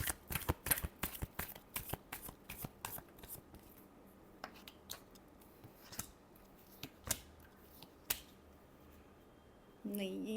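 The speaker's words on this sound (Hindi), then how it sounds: "last shuffle" Tarot cards being shuffled by hand: a rapid run of crisp riffling snaps at the start, then sparser single flicks and shuffles, close and fairly quiet, with a brief rustle at the end.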